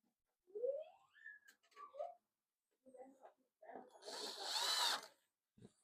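An electric screwdriver tightens screws on a Casio WK-3500 keyboard, with a brief close whirring burst after scattered handling clicks and scraping.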